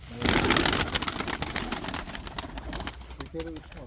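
White pigeons coo and flutter close by amid rustling and shuffling noises, with a voice briefly audible near the end.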